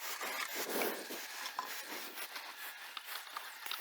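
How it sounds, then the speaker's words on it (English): Scraping at the end of a wooden beehive frame over a screen gives a close, uneven series of soft rubbing and rasping strokes with no speech. "I'm going to scrape the end of that off the screen."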